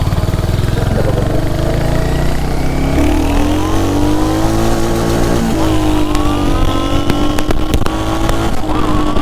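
A Royal Enfield Hunter 350 motorcycle revs hard while standing still, its loud engine note rising and falling in repeated throttle blips, steady and close throughout.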